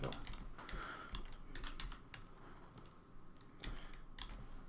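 Computer keyboard keys being tapped in quick irregular bursts while working on a frame-by-frame running animation, close and fairly quiet, with no talking.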